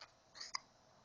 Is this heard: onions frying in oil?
no